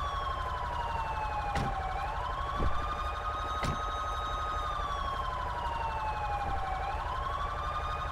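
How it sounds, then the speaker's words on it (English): A police car siren wails loudly and continuously nearby, sweeping up and down in a slow repeating cycle, with a few brief clicks and thumps over it and no talking. "Can I get one of you to go turn the sirens off when the car's over there, please?"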